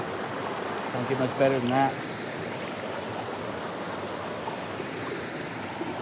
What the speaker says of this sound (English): This creek is just so beautiful.